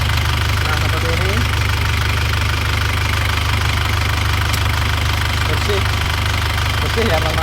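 A rebuilt 2001 Isuzu Panther diesel engine idles with a steady, loud, rough knocking rumble that runs without a break throughout.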